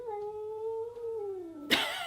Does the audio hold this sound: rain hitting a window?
no